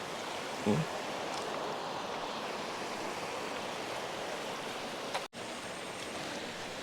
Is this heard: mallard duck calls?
no